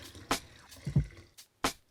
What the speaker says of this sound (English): Follow this by adding in your water and apple cider vinegar.